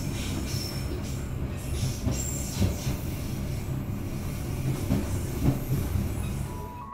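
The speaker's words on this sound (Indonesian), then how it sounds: "Kereta api Gajayana yang saya naiki telah tiba di stasiun Solo Balapan" Gajayana luxury passenger train rolling on rails, arriving at Solo Balapan station, with a steady loud rumble of wheels, periodic clacks over rail joints and faint high squeals throughout, no voices.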